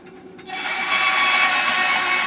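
A plywood slingbow being sanded by power tool or sandpaper, a quiet start, then a loud continuous whirring, abrasive hiss that builds and holds steady close by.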